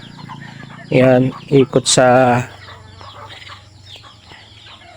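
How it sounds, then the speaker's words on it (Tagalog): Chickens cluck in a rural village yard in the morning, a burst of loud, close clucking and calls lasting about a second and a half, then quiet background with a faint low hum; a person speaks briefly. "Mga manok."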